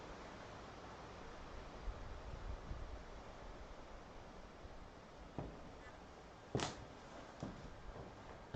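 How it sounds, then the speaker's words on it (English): Wind buffets an outdoor microphone during a night of telescope viewing, a steady broadband roar with low rumbling gusts and a few sharper knocks near the end, continuous throughout. "We're really fighting the wind here."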